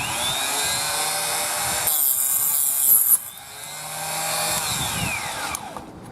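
A power tool in a jig cuts .223 brass to 1.5 inches for Nagant revolver cases, a loud, steady high-pitched whine that changes pitch as the blade bites in midway, then settles back to a running hum.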